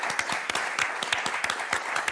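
Studio audience applause for contestants on the French word game show Motus, with sharp, evenly spaced clap bursts standing out in a steady close clapping rhythm.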